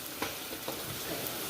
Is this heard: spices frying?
yes